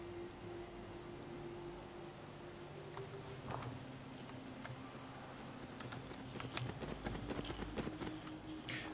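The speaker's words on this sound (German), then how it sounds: "Hört sich ein bisschen an wie ein kleines Pferd, ein Pony vielleicht." Faint, quick hoofbeats of a small pony in Fallout 4 patter steadily over a soft hiss of background noise, growing busier toward the end.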